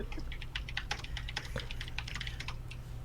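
Rapid, quiet keystrokes on a computer keyboard in a continuous flurry, close by over a low steady hum.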